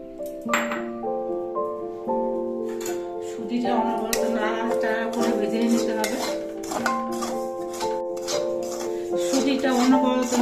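Semolina is stirred and roasted in a metal pan, with repeated ringing clinks and scrapes of a utensil against the pan in an uneven rhythm throughout.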